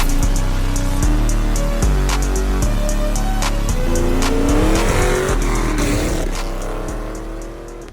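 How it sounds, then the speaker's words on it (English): Highway traffic roars loudly and continuously nearby, with vehicles passing and a deep rumble that eases slightly toward the end, heard without voices. "since there's a lot of highway noise"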